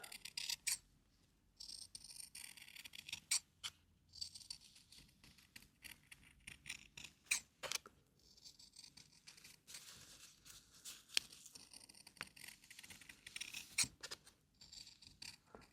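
Scissors snipping through thin felt to cut out a heart shape, a run of close, quiet crisp cuts and rustling of fabric in short irregular bursts with no talking.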